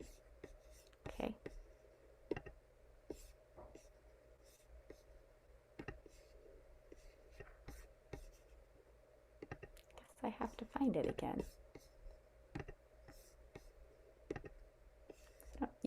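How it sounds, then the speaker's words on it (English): Soft computer clicks and taps sound intermittently in a quiet room, sharp little ticks spaced irregularly, with a brief burst of rustling midway and a voice murmuring once. "you can probably hear my computer clicking"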